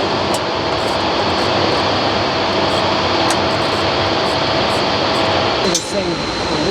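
A triple-cylinder engine is dry cranked, producing a loud, steady whirring roar that holds evenly throughout before a brief dip near the end.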